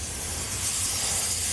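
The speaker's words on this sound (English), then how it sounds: "You hear that beautiful sizzle." Fruit coated in maple syrup sizzles on a hot grill, producing a steady, fairly loud hiss that runs unbroken throughout with no voices.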